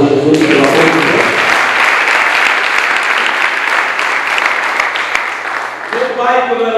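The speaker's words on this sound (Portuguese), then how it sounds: "Deixa eu dar um aplauso a Jesus" A church congregation bursts into sustained applause for Jesus, dense and loud throughout, with a voice speaking briefly at the start and again as the clapping fades at the end.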